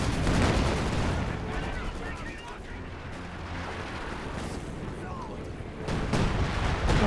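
Priest self-propelled artillery guns in the video game Company of Heroes 2 keep up a dense, continuous barrage of booming shots and rumbling impacts, loud and layered throughout with heavier blasts toward the end.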